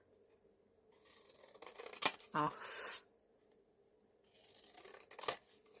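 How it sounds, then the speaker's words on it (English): Scissors snip through a thin sliver of paper while making a gift-box gumball machine craft, giving a short crisp cut followed by a longer rustling slice, close and fairly quiet, with a voice speaking briefly in between. "if you're good with scissors, just take a slither"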